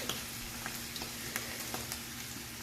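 Food for a potato leek casserole frying in a pan, with a steady close sizzle and a few light clicks and stirring taps over a low hum.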